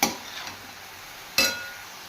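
A utensil stirs veg chowmein noodles with black pepper powder in a pan, giving two sharp clinks, one at the start and another later, with quiet scraping between.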